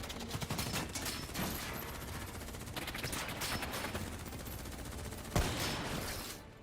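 Sustained automatic gunfire rattles on in the Call of Duty Black Ops 3 combat, with rapid overlapping shots, a sharp loud crack near the end, then a fade into quiet.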